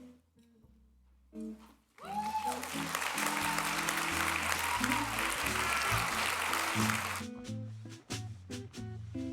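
A celebration audience bursts into loud sustained applause after quieter moments, the clapping running for several seconds under low background music and then cutting back to softer sound.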